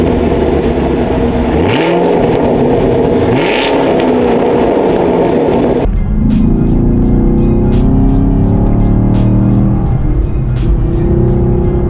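A Chevrolet Camaro with a six-speed manual gearbox and rear-wheel drive revs and accelerates hard, loud engine notes rising through gears with shifts, heard close and continuous.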